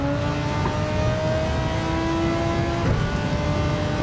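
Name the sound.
race car engines in video game Gran Turismo 7 at Spa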